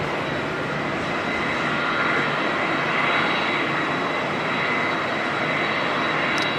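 A Qantas Airbus A330 jet on its takeoff roll at Auckland Airport, a loud continuous engine roar with a thin high whine, holding steady across the whole stretch with no talk.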